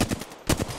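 Gunfire in the video game Apex Legends: two loud, close bursts of rapid shots separated by a brief gap.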